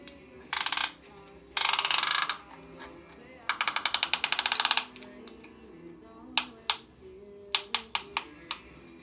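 A piston ring compressor is ratcheted tight around a piston for a BMW M44 engine, giving bursts of rapid, close metallic clicking followed by several single sharp clicks.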